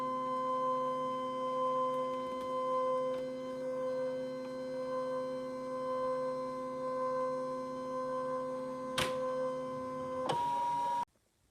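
Brother ScanNCut machine scanning fabric on a cutting mat: a steady electric motor hum with tonal whine runs throughout, close and even, ending with a couple of sharp mechanical clicks and a brief beep near the end.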